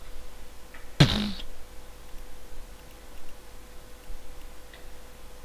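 A single short fart sound effect in a modded Minecraft game, loud and close over a quiet background hum, followed by near silence.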